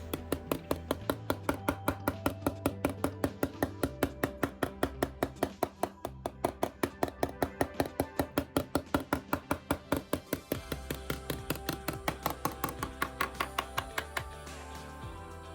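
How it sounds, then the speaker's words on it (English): A teaspoon tapping gently on model railway track to settle ballast: a steady, quick series of light metallic ticks, evenly spaced and close, continuing for many seconds over a faint low hum. "Just gently tap on the track and you'll find that the ballast will sort of settle just around the sleepers."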